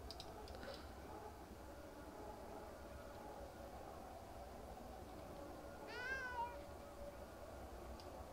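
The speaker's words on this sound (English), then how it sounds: "Oh, look, it's a cat." A cat in the RuneScape video game meows once, a short rising-and-falling call over a steady hum of game background ambience.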